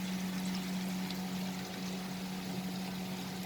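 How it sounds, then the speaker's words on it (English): Water poured into a pot of sautéed potatoes for potato pulao, a faint, steady hiss of pouring with a low hum underneath and no talk. "So now we are going to add water to this recipe."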